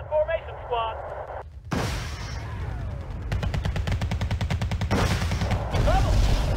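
Rocket launch and gunfire in the combat game Team Yankee: a sudden loud blast, then rapid machine-gun bursts and a fast rattling volley, with a voice speaking over the battle.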